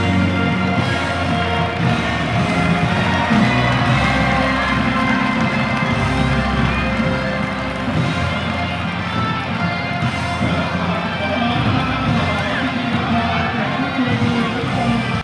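SCG Muangthong United football fans in a stadium cheer and applaud a returning player, a loud, sustained crowd roar with shouts and whoops running throughout.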